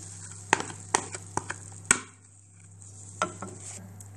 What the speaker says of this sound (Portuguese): Agora vou misturar a cenoura ralada